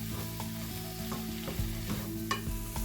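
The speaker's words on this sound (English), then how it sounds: "I've been sauteing the vegetables now on medium-high heat for about 7 minutes" Mixed vegetables and tomatoes sautéing in a pan over medium-high heat, a quiet steady sizzle under a low hum, with a few sharp utensil taps and stirring scrapes.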